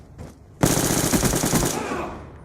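Light machine gun fire in Black Ops 2, a loud sustained rapid burst of shots lasting over a second after a brief quieter lead-in, fading slightly at the end.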